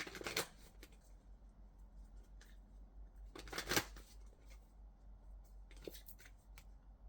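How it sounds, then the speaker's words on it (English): Spirit Animal Oracle cards being shuffled by hand, soft close riffling bursts in three separate rounds with quiet handling between them, no talk. "Let me get some cards from the Spirit Animal Oracle."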